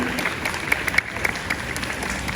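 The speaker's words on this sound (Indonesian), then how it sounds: "Tepuk tangan." An audience of children at an Islamic religious talk claps together in a brief burst of fairly loud applause, with a voice faintly over it.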